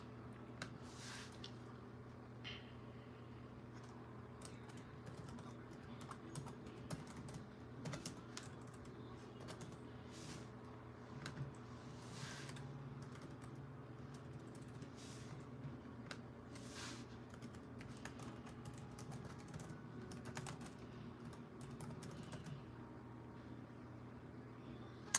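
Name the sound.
typing on computer keyboard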